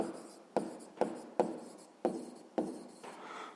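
Pen strokes writing numbers on paper while working a sixth-grade math exercise: six or seven short, distinct scratching bursts in a steady rhythm, close and clear, with no talking.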